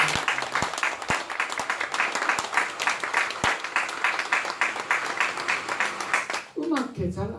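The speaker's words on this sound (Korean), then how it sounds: "박수 한번 칩시다. 박수." A lecture audience claps together in sustained, dense applause with some louder nearby hand claps, ending as a voice begins speaking at the close.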